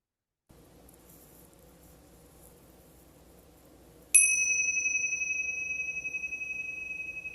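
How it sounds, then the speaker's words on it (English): A single meditation bell struck once to close a winter midday class, ringing out clear and sustained with a slow fade over soft background hiss. "at the sound of the bell, coming back for us to close our class."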